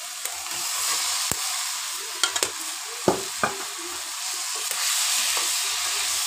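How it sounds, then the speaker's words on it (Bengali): Taro (mukhi) frying in oil with cooked-down spices, a steady bright sizzle with several sharp clinks of a spatula stirring the pan, no talking. "মুখিগুলো অল্প একটু সময় মশলার সাথে ভেজে নেব।"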